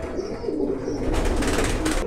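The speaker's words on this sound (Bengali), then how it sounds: "শিয়ালকুঠি কবুতর" Shialkuthi pigeons of a Pakistani high-flying breed coo softly in a loft, low throaty calls repeating under a constant rustle.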